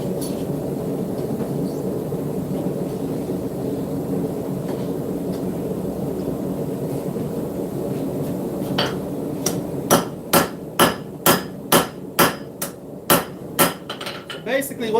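A hammer strikes a knife blade being forged, starting after a stretch of low rumbling background with about a dozen sharp, ringing metallic blows in a steady rhythm, close and loud.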